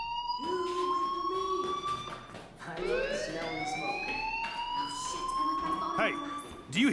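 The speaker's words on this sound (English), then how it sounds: "Hey, do you hear that fire alarm?" A fire alarm in Life Is Strange rings as steady electronic tones, with a rising siren-like sweep partway through, ongoing under voices speaking.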